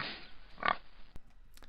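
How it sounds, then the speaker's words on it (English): A single short pig grunt sounds close by over a faint hiss, followed by a couple of soft clicks. "Noise number 3 is obviously pig or pigs."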